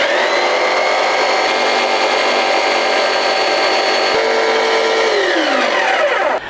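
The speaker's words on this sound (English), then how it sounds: "This plastic is pretty soft, not difficult to cut through." A power tool whines loudly and continuously as it cuts through the soft plastic of a bobblehead, then drops in pitch as it winds down near the end; no voices.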